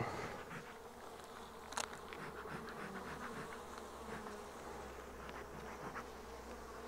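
Steady droning hum of a large honeybee colony at a hive in Provence, dense continuous buzz with individual bees passing close, no talking.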